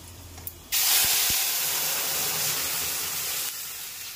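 Masoor dal poured into hot oil with fried garlic tempering, bursting into a loud, sudden sizzle that hisses steadily for a few seconds, then drops slightly as it settles.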